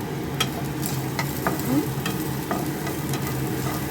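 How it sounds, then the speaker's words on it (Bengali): Ground cumin and red chilli powder sizzling in hot oil in a pan, a steady close frying hiss with light stirring scrapes and small pops, no voices. "সাঁতলে নেব মশলাটা একটু।"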